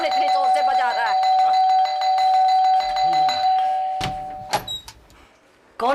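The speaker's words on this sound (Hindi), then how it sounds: "इतने जोर से कौन घंटी बजा रहा है?" A doorbell rings loudly and insistently in a Hindi horror TV serial, repeated chiming tones with voices talking over it, then sharp knocks and clatter near the end.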